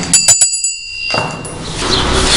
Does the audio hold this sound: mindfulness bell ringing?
yes